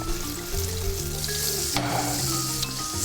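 Steak fries in a hot pan with a steady, dense sizzle and crackle, close and loud, along with faint scraping and shifting sounds from the cooking.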